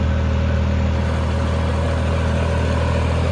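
A Cheetah tractor engine runs continuously under load with a steady low diesel drone, close and loud, and the engine is slightly overheated. No voices are heard.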